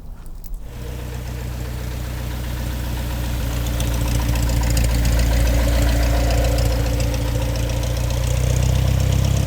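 A Cessna Skyhawk light aircraft engine idles while taxiing on an airport taxiway after clearing the runway, giving a steady, close, throaty drone that swells slightly louder toward the end, with no talk.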